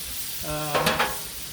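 Turkey burgers fry in butter on a Blackstone griddle, a steady close sizzle joined by a brief burst of scraping or stirring and a short tonal squeak partway through.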